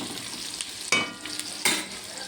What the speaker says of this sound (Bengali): আলুটা একটু ভাজা ভাজা হয়েছে